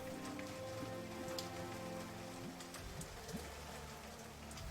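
Steady rain falling as an ambient sound effect in a jungle tabletop role-playing session, a dense even hiss of drops throughout with no voices.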